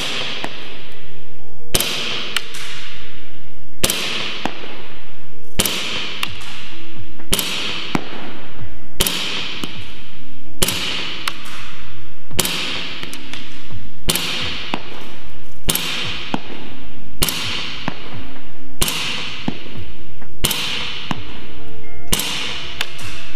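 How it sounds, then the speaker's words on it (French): CO2 airsoft pistol firing at a mannequin 35 metres away, about fifteen sharp cracks spaced at a slow, even rhythm, loud and close, each followed by a brief fading tail. "Donc on tire sur le mannequin,"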